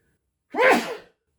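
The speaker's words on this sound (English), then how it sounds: "I gotta sneeze." A single sharp sneeze, close and sudden, lasting about half a second with silence around it.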